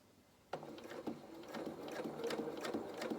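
A domestic sewing machine stitches along the edge of a label on a children's garment, starting abruptly after a brief quiet and then running in a close, steady rhythmic whirr of repeated needle strokes.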